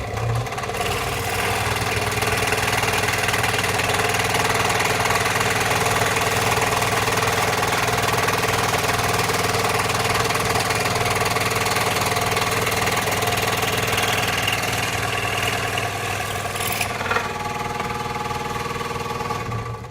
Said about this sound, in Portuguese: aqui eu vou estar utilizando a tico-tico de bancada